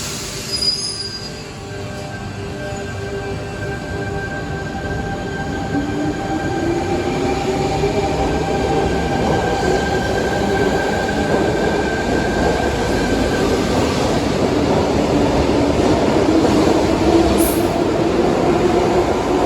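Sydney Waratah A and B set four-car electric train in Train Sim World 2, running along with a steady rolling rumble, rising motor whine and long high wheel squeals, growing louder throughout.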